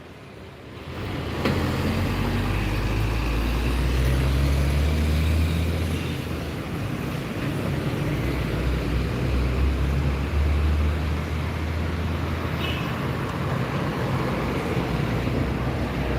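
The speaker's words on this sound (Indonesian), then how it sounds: "truk molen putar kepala di depan terminal Palembang nah" Concrete mixer truck turning around in front of the Palembang bus terminal, a loud, close, continuous low engine rumble with wind buffeting the microphone, holding steady for the whole stretch without talk.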